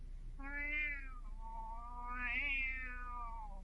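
A cat meows twice, each a drawn-out cry with a clear rising and falling tone, close up and on its own with no talking.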